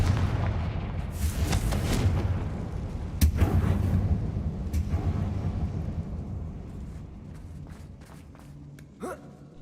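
Confringo blasting spells go off in Hogwarts Legacy as a few booming impacts over a dense rumbling battle bed, followed by a fading tail and a brief sharp sound near the end.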